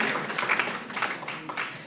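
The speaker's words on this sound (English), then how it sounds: "Clap for her, please." An audience claps for a guest at a Kenya Editors Guild event, a steady, moderately loud patter of many hands filling the room without pause.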